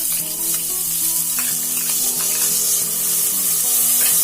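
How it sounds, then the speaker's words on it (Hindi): Chopped onion hits hot oil in a kadai and fries with a steady, loud, close sizzle that holds evenly throughout, with faint stirring beneath and no talking. "ऑयल के गर्म होते ही हम इसमें डालेंगे कटा हुआ प्याज"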